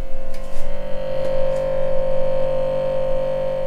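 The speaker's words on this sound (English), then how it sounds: "you can hear over my shoulder that noise, that annoying noise, and you can hear it even louder because it will echo through the back of the refrigerator" A noisy Samsung French door refrigerator gives off a steady, loud electrical hum with a strong tonal drone that holds throughout, plus a few faint ticks near the start.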